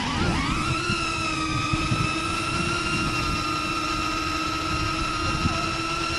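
Drone motors spin up from arming to a steady, high-pitched whine with layered tonal hum, loud and close, holding constant over a breezy outdoor background.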